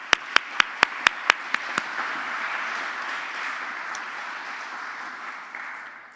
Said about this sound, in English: So a big applause for all these participants.